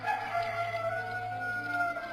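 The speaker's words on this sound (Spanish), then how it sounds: "el gallo cantó." A rooster crows in a long, drawn-out call with layered harmonic tones, steady and fairly loud over a low background hum, as part of a Gospel of Luke scene where Peter denies knowing Jesus.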